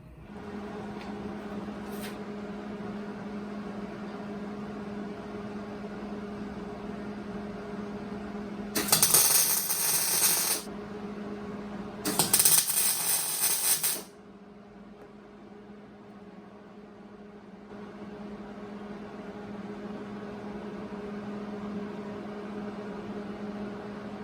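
Welder fusing a hinge plate into the A-post of a classic British sports car, two loud crackling bursts of a few seconds each over a steady low hum, with no talking.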